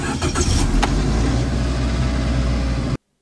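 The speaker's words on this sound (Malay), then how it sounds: "Lepas tu akan hijau Maksudnya kita dah boleh start kereta Jom test" A car engine is started with a Baseus jump starter power bank, a loud close crank that catches and settles into a rough idle for nearly three seconds before the sound cuts off abruptly.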